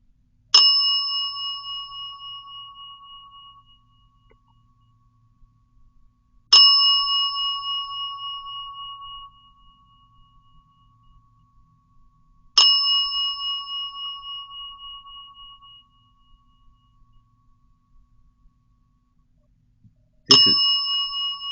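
A small bell inside a cat's toy ball rings at about 2am, four clear single dings spaced roughly six seconds apart, each bright metallic tone ringing out and fading slowly in an otherwise silent room.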